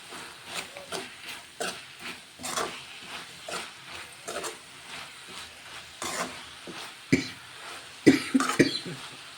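Repeated coughs from pungent pickle fumes come in a series of short bursts over a soft background sizzle and stirring, growing harsher toward the end.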